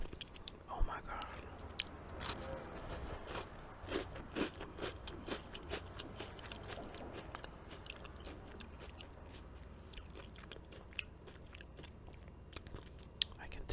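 Close-up ASMR eating of smoked salmon bought at Whole Foods: soft wet bites and chewing, scattered small crunches and mouth clicks, intimate and quiet, with occasional whispery voice sounds.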